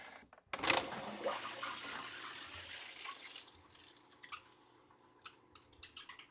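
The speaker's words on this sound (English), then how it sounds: "And that should start the siphon. So it's sucking water and pushing air out." Water drawn through a siphon into a nano aquarium tank, starting with a loud gurgling rush and sucking burst that eases into a softer trickle with scattered drips, close up.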